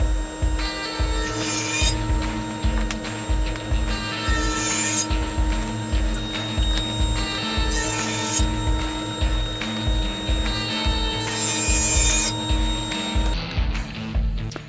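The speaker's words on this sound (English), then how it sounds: "So we're going to go ahead and resaw this directly in half." A wood board being resawn in half lengthwise, likely on a bandsaw with a carbide-tipped blade: a steady loud machine drone with periodic rasping surges of cutting noise, ending with the blade running down, no talk.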